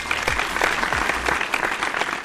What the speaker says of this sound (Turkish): Fazlasıyla alkışı hak ediyor Hilal Hanım.